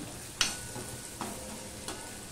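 Ginger and garlic fry gently in a pan for chilli chicken, a soft steady sizzle with three sharp scraping stirs spaced through it, close but fairly quiet and without speech.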